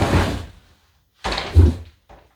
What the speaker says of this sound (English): my wife just shut the door on me